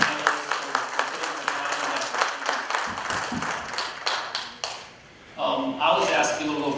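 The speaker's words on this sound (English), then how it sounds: "we should give these people a round of applause" Audience members at a county business round-table clap for a panel, a loose, moderately close patter of hands that thins out and stops, then voices pick up afterward.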